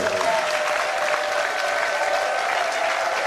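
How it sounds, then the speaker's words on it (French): Steady, dense applause from a congregation at a church wedding blessing, a continuous wash of clapping held at a loud level throughout with no break. "Applaudissez encore une fois les tous pour Amen"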